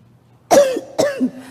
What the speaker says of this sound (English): No, my cough is okay.